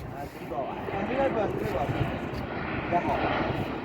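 An airliner comes in to land in Oman, its engine drone and roar rising and holding steady in the distance while people talk over it.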